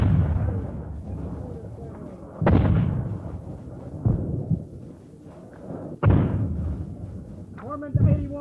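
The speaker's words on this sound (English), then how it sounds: "There, the flash of enemy mortars from that hilltop." Enemy mortar fire in wartime Vietnam: three heavy, booming blasts spaced a few seconds apart, each with a long rumbling tail, over a low continuous battlefield rumble.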